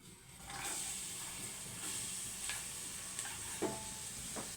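Onion hits hot oil with a bay leaf and fries with a soft, continuous hiss and sizzle. A few faint clinks of stirring come near the end. No voices.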